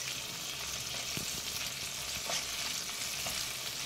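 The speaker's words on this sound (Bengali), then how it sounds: "কাঁচা ছোলা এখানে দিয়ে দিলাম। একটু হালকা নাড়াচাড়া করে নিচ্ছি।" Soaked raw chickpeas sizzle and hiss steadily in a hot pan while being stirred for mochar ghonto, with faint scraping knocks under a constant close frying sound and no talking.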